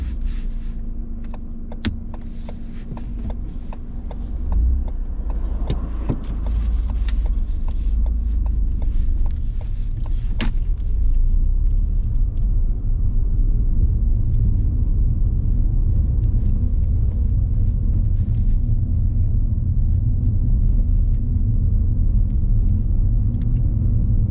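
Car pulling away on a mock driving test on a residential road in Kingstanding, a steady low engine rumble and road hum continuing throughout, with a few brief clicks early on inside the cabin.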